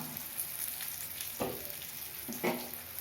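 Brinjal shallow-fries in a covered pan, a faint steady crackling sizzle with two soft louder pops, close and free of speech.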